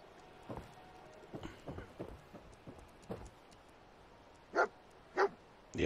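Dogmeat the dog in Fallout 4 gives several soft, scattered barks and snuffs at a distance, followed by two louder, sharper barks near the end against a quiet background.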